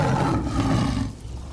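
A tiger roars nearby, one loud, rough, sustained growl that fades out after about a second.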